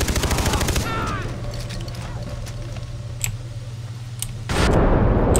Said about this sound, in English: Stop shooting me, stop shooting me.